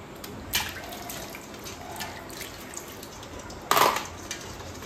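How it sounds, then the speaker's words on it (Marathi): Fresh crabs are rinsed in clean water to wash off mud, giving a steady trickle of running water with two short, louder splashing bursts as they are handled. "ते स्वच्छ पाण्याने धुवून घ्यायचं साफ."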